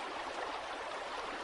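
A river flows steadily at a three-way confluence feeding the Thodupuzha river in Kerala, a faint, even rushing hiss of moving water with no voices.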